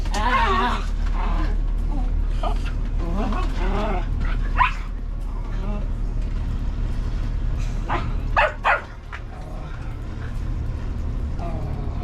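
Two dogs bark in short bursts against a steady background hum, likely a boat engine in the North Channel near Heywood Island, with a few sharper yips standing out near the end.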